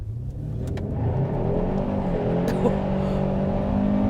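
A 2021 Hyundai Sonata N-Line engine roars steadily and strains under hard acceleration, with a faint squeal of spinning tires mixed into the loud, continuous drone.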